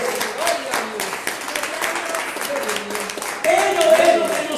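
A church congregation claps along in steady rhythmic beats under a preacher's voice, with the clapping swelling louder near the end.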